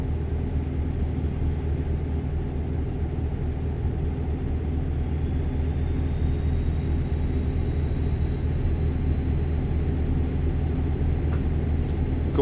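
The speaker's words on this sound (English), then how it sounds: "Gorgeous engine sounds there." Peterbilt 389 truck engine in American Truck Simulator, a steady deep rumbling drone that holds constant and loud throughout, with no voices.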